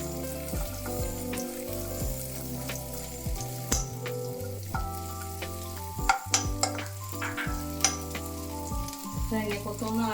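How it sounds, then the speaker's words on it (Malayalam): Coconut pieces fry in ghee with a continuous sizzle and occasional stirring clinks, close up, while background music plays throughout. "തേങ്ങാക്കൊത്ത് എടുത്ത് വറുത്തെടുക്കാം."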